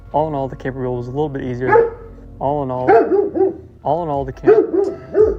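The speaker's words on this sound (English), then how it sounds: "I'm sorry about the dogs." Several dogs bark in repeated loud bursts close by, mixed with yips and whines, while someone talks over them about building a DIY camper top for a Toyota Tacoma truck.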